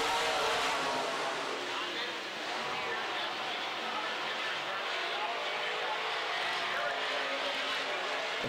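Midwest Modified race cars roar around the Amsoil Speedway oval in a heat race, a dense continuous engine drone with a commentator talking over it.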